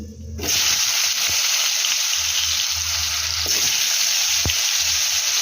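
Potatoes and vegetables hit hot oil seasoned with black cumin, bursting into a loud, steady sizzle with a few faint clinks against the pan.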